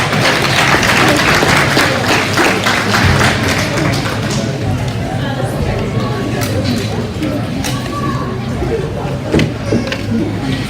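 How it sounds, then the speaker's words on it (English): A crowd at a lamb and goat show applauds exhibitors with steady, dense clapping that continues throughout, loud and close, with some voices mixed in. "Let's give these exhibitors a round of applause."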